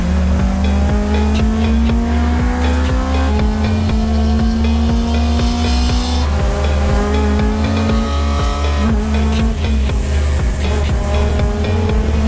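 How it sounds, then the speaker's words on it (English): An endurance race car laps Pittsburgh International Race Complex in a ChampCar series road race, its engine roaring loud and close with rising and falling revs through gear changes and occasional tire noise. "8 hours of endurance road racing begins here at Pittsburgh International Race Complex"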